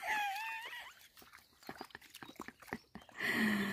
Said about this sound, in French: Bon, écoutez, c'est un chien.